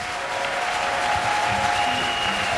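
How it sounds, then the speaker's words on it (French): An audience clapping at a church gathering, a dense, steady wash of applause that continues without a break for the whole stretch, with a sustained tone running beneath it. "Let's clap for Jesus Christ"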